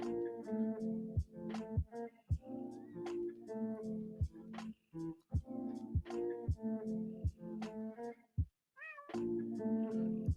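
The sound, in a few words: cat meowing in the background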